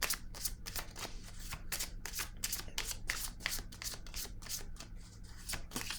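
Playing cards are handled and drawn from a deck in a quiet room, with a steady run of soft, rapid card flicks and shuffling rustles throughout.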